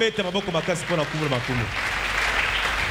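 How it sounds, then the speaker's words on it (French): A church congregation claps and cheers loudly for a few seconds while a preacher's voice chants over the applause, which then continues on its own. "Acclamons très fort pour le roi de Dieu."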